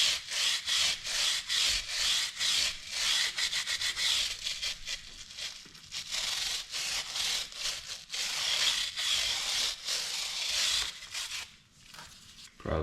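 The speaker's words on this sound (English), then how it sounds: "I'm gonna scrub." A chain on a 2015 Yamaha WR250R motorcycle is scrubbed with cleaner: a close, loud, steady run of quick rhythmic brushing strokes that continues for the whole stretch, with only brief slower pauses.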